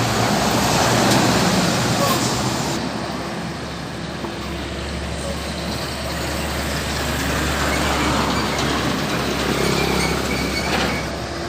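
A PMH Gracia Jetbus 3 intercity bus passes on a foggy road, its engine and tyre rumble rising into a broad, loud roar and then fading, with a short lull in the middle.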